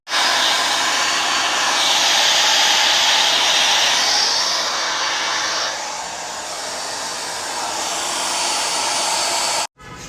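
A hair blow dryer runs loud and steady at close range, a constant whooshing roar that drops slightly in level midway, then cuts out briefly near the end before starting up again; no one speaks.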